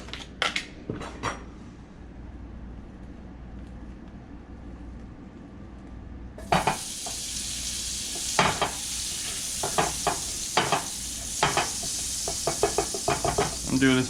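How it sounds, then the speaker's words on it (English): Butter sizzling in a non-stick frying pan, a steady crackle that starts partway through and stays close and moderately loud, with occasional knocks and scrapes from utensils against the pan. "let's get a little butter on that pan"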